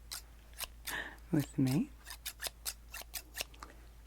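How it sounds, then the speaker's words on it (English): Zebra scissors make a run of crisp snipping cuts, close and distinct, after a short stretch of soft-spoken talk. "I did bring my trusty zebra scissors"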